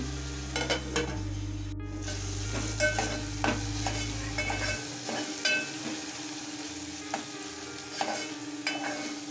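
Onion and green chilies fry in a pan while a spoon stirs them, with a soft steady sizzle, repeated scraping and clinking strokes up close, and a low hum that stops partway through.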